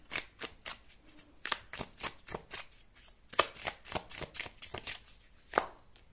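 Tarot cards are shuffled in a quick series of crisp riffling and slapping bursts, close and fairly quiet, with irregular pauses between bursts.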